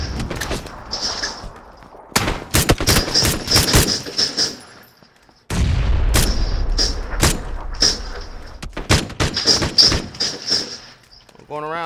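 Gunfire in the battle royale game PUBG alongside a grenade blast: bursts of sharp rifle shots crack in quick irregular clusters, broken by a heavy deep explosion midway, with people talking over the action.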